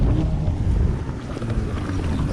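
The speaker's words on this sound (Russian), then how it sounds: "Ветер боковой." Crosswind buffets the microphone of a cyclist riding on gravel, a steady loud rumbling roar with no pauses and no voices.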